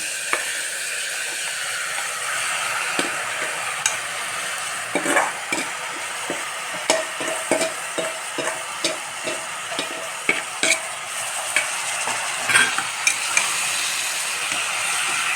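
Mushrooms, curd and mint sauté in a pan for mushroom pulao, with a soft, steady sizzle broken by repeated scraping strokes of a spoon as the mixture is stirred.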